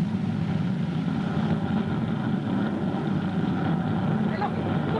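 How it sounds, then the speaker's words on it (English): Rocket engines firing on a spaceship pulling free of a crater, a 1950s television sound effect: a steady, dense roaring rumble that holds without a break throughout, with speech-like murmur faintly mixed in. "Fire rockets. Listen to that sweet music."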